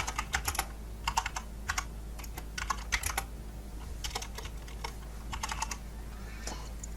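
Fingers type on a computer keyboard in quick bursts of close, crisp clicks separated by short pauses, with a low steady hum beneath and no talk.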